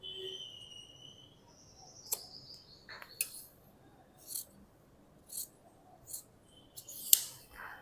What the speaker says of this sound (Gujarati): હવે આપણે આને કટ કરી લેશું ને અહીંયા આપણે કાપો પાડી લેશું.